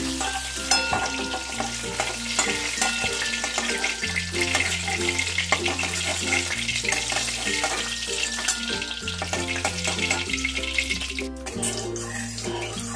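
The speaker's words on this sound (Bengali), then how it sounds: "এইরকম করেই আমি সব ফুলকপিগুলোকে ভেজে নেব।" Cauliflower florets fry in oil in a kadai for a cauliflower roast, giving a steady, dense sizzle with watery crackle throughout, while a tonal music bed plays underneath.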